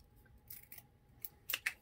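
Scissors trim the paper edge of a miniature dollhouse book, giving a few quiet, crisp snips, two pairs close together near the end, with no talking.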